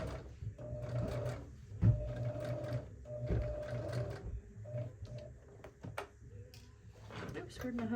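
A sewing machine stitches a fabric tote bag in short, quiet runs of rapid clatter, broken up by the thumps and rustles of handling fabric.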